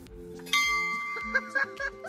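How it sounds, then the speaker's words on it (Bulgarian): Bells struck one at a time: a bright metallic strike rings out with a sustained tone, followed by several lighter hits, with faint low voices underneath. "И сега трябва да удара всяка една камбана."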